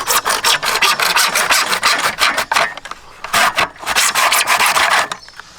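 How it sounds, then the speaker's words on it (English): A fine-tooth blade, a small miter saw or hacksaw, cuts through PVC drain pipe in steady back-and-forth rasping strokes, close and loud, with a brief pause mid-cut before the strokes resume and then stop. "With cutting PVC, it's good to have a really fine tooth blade like this little miter saw or a"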